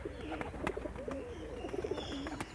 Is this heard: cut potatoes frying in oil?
no